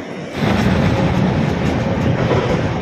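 The Howrah–SMVB Express pulls away from Khurda Road station, a loud, steady rolling rumble of wheels and carriages heard from on board, with no one talking.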